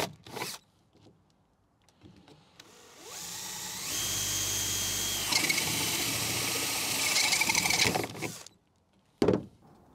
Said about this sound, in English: So we can now drill those out.